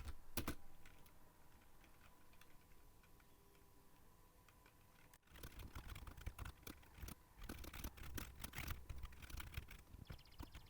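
Quiet keystrokes on a computer keyboard at a desk, sparse taps at first, then a denser, louder run of rapid clicks in the second half.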